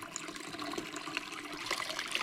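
Warm water poured from a pitcher over sterling silver soaking in a salted bath, a continuous splashing trickle and gush that runs for a couple of seconds, close and fairly loud, with no talking.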